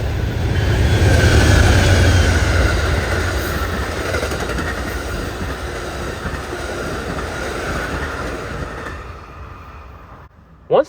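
Amtrak Zephyr number 5 passenger train passing close by, loud steady rumble and clickety-clack of wheels that swells early, fades gradually and ends with an abrupt bump.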